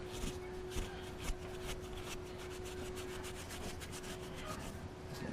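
An abrasive Scotch-Brite pad scrubs a metal surface during exhaust manifold work on a Ford Explorer 4.6L 3V, making a steady close rasping rub with repeated quick strokes and no talk.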